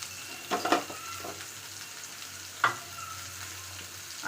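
Bitter gourd with onion, tomato and curry leaves fries quietly in a pan, a soft low sizzle with a few brief stirring scrapes and clatters.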